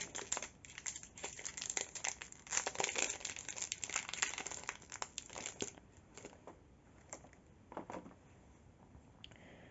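A foil Pokémon Sword & Shield Vivid Voltage booster pack being torn open, close crinkling and crackling in irregular bursts that thin out toward the end, fairly quiet with no talk.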